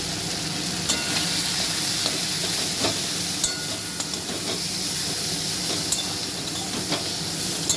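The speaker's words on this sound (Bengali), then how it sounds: "চিংড়ি মাছগুলোকে লবণ হলুদ মাখিয়ে রেখেছিলাম, সেগুলো এবার ভেজে নেব।" Prawns coated in salt and turmeric frying in hot oil, a loud continuous sizzle and hiss with occasional sharp pops and spatters, no talking.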